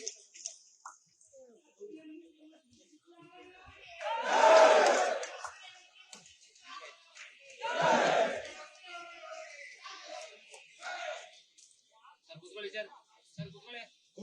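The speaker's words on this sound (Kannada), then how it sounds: "ನಮ್ಮ ಸಿದ್ದರಾಮಯ್ಯ ಸರ್ಗೆ ಒಂದ್ಸತಿ ಜೋರಾದ ಚಪ್ಪಾಳೆ ಬರಲಿ" A crowd at a Siddharameshwar Jayanti award ceremony gives two loud surges of cheering and shouting as Chief Minister Siddaramaiah is welcomed, with quieter murmuring and voices between the bursts.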